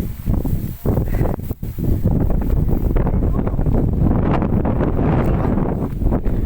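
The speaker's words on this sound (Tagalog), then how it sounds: "Sobrang hangin lang." Strong wind in Batanes buffeting the microphone in a loud, continuous roar, with brief gusty dips early on.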